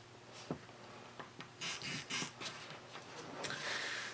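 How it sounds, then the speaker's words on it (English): A chalk marker scratches short strokes across fabric to mark half-inch seam lines for a zip-top tote pocket, quiet and close, in a few brief bursts. "take a little chalk marker and mark 2 chalk lines for my 1/2 inch seam"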